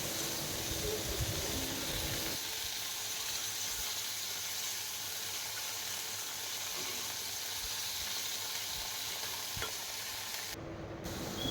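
Steady frying sizzle from a pan, a continuous hiss with faint crackle throughout, close and moderately loud, with no voices.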